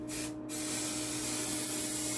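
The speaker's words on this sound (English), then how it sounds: "I'll spray a line" A spray can hisses steadily and up close while laying a line of coating along the center crease of a wooden shield, one brief stutter at the start and then a continuous spray.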